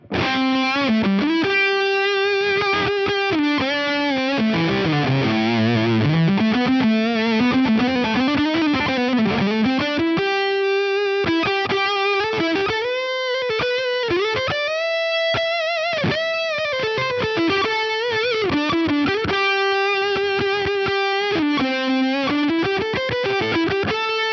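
Electric guitar through a Venus tube overdrive pedal plays a melodic line with sustained, gritty notes and bends, loud and continuous, with no voices.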